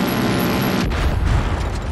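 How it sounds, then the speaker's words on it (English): A heavy in-game explosion in the Far Cry 5 shooter lands with a deep, loud boom about midway, followed by rumbling low-end debris over a steady background of game noise. "See, look, funny explosion, okay?"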